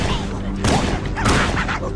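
Gunfire from shooting aliens in the original Halo on PC, two loud close bursts of shots over a dense game background of noise and effects.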